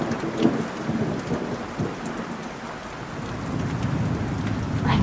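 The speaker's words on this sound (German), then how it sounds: "Ich höre dem Regen zu." Steady rain falls throughout with dense broadband patter, low rumbles suggesting distant thunder rolling underneath; no voices.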